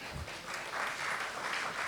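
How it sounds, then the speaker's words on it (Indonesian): Congregation applauding during an onsite church worship service, a steady broadband patter of clapping that swells and holds for a couple of seconds, moderately loud and filling the room with no voices on top. "Tepuk tangan bagi Tuhan."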